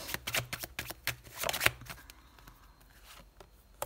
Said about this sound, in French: On met une autre carte.